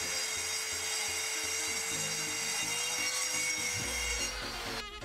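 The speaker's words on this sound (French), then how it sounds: "Ensuite, je fais des tasseaux dans une planche en bois exotique." Power saw ripping wooden strips from a plank of exotic hardwood, a steady loud whine with grinding cut texture running continuously, then cutting off abruptly near the end.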